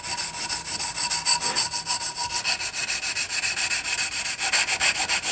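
A wooden knife handle is sanded by hand in quick, regular back-and-forth rasping strokes, close and loud, forming a continuous rhythmic scratching with no talking.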